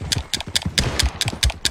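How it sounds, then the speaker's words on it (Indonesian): A horse gallops in Red Dead Redemption 2, its hooves striking in a fast, regular clip-clop rhythm, with about nine close, distinct beats in under two seconds. "Wah, iya dia pakai kuda."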